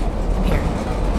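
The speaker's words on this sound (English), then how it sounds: "I just wasn't expecting this train." A train rumbles past in an audio drama, a steady low rolling roar with some clatter that fills the moment at close range, alone without any voices over it.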